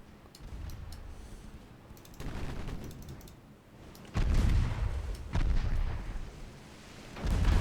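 Torpedoes launch from a ship's rear launcher in a naval strategy game, a few loud, low booming bursts arriving in uneven succession over a steady background rumble.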